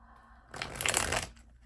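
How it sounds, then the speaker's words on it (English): A tarot deck with glitter-coated card backs is riffle-shuffled once, a quick, close, papery flutter lasting under a second in an otherwise quiet room. "So the first 3 shuffles are going to be to cleanse the deck"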